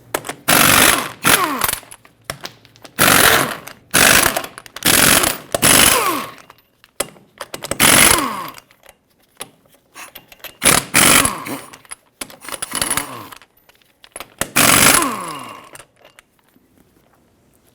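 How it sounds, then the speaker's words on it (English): Lug nuts being spun off the 22mm studs of a 2007-2014 Chevrolet Silverado 2500 HD rear wheel with a power tool, several loud separate bursts of buzzing rattle repeated in turn, each a second or so long, with short quiet gaps between. "Now remove all 8 of your 22mm lug nuts."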